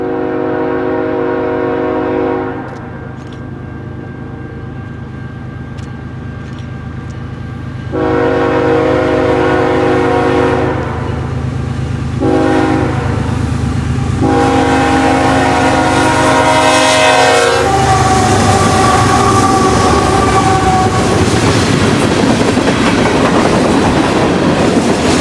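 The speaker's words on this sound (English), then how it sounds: "We finish off the day with BNSF 8233 East with the CPKC manifest." BNSF 8233 leads an eastbound CPKC manifest freight past, loud and close, with long horn blasts sounding over the steady rumble and clatter of the rolling cars.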